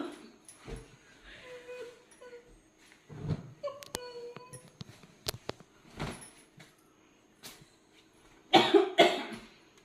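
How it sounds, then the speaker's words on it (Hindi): A person with a cold and fever coughs several times in scattered, short bursts, close and fairly loud, with quiet pauses and a heavier pair of coughs near the end. "खांसी जुकाम, ऊपर से ये सर्दी और खांसी जुकाम बुखार।"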